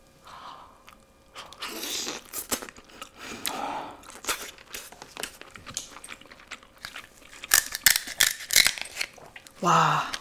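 Crunching, cracking and chewing of giant king crab shell and meat from a seafood boil, up close, in irregular bursts of bites and snaps, with a few brief spoken exclamations between them.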